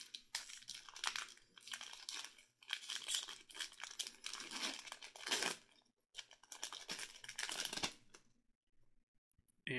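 A foil collector booster pack of trading cards is torn and crinkled open in close, loud bursts of ripping and crumpling, separated by short pauses.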